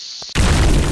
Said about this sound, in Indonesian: Kita ledakan guys.